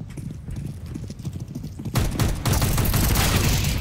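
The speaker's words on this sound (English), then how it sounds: "A grenade." A grenade blast in the shooter game CS:GO, a sudden loud broadband burst about halfway through that stays dense and noisy to the end, with gunfire mixed in.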